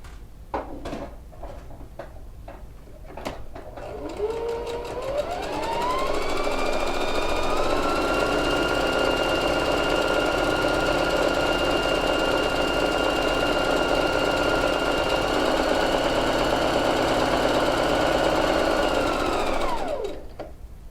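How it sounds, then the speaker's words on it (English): A sewing machine stitches around the edges of quilted coat pieces, first a few clicks and short bursts, then a long steady whirring run of about fifteen seconds that winds down at the end; no talk. "just going to stitch around the edge of all my pieces"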